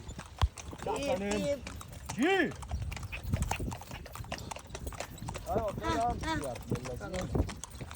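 Horse hooves clip-clop steadily during a horse-drawn carriage ride in Egypt, a brisk running rhythm under continuous talk from passengers, with the horse snorting or whinnying briefly.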